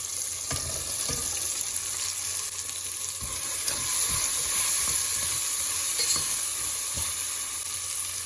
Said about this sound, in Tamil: கட் பண்ணி வச்சுருக்கிற எல்லா காய்கறிகளையும் இப்போ நம்ம ஆட் பண்ணிக்கலாம்